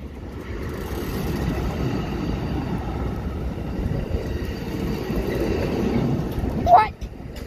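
An Amtrak passenger train with an extra coach rushes past with a steady, heavy rumble and clatter of wheels, ending in a brief high squeal as it fades.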